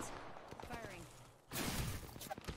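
Gunfire in Apex Legends: scattered shots crackle early on, then a heavier burst of rapid fire breaks out about halfway through, under a voice.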